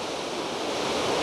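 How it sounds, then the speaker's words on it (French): Rushing water from a spring waterfall beside a mountain trail to the Chalets de Sales near Sixt, a steady, loud broadband roar with no letup and no voices. "Première cascade d'une belle série sur la route des chalets de Salles."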